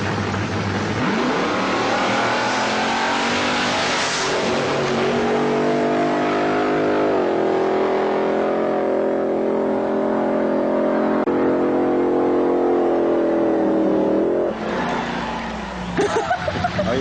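A 1,600 hp alcohol-burning, cast-iron block Chrysler Hemi in a drag racing wheelstander revs up close and very loud, a sustained roaring engine note that climbs and holds for about fourteen seconds before cutting back.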